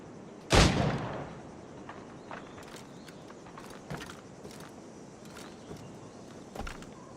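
A single loud shot booms out in Assassin's Creed Rogue, followed by a decaying tail and a few fainter, scattered thuds and clanks in the background.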